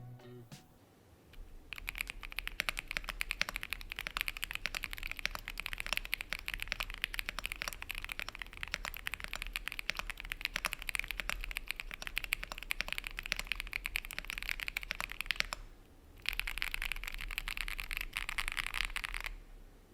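Rapid typing on a mechanical keyboard fitted with CTID Azurite switches and PE foam produces a dense, steady stream of close clicks and clacks for most of the stretch, pausing briefly near the end.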